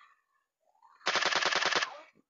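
A minigun fires in PUBG Mobile zombie mode: a rapid, loud burst of about a dozen evenly spaced shots lasting under a second, with faint game sounds just before.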